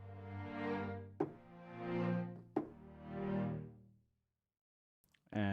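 Sunset Strings sample library heard through the room mic position only, with three sustained, swelling string notes, each rising and fading, followed by a short pause and a brief new attack.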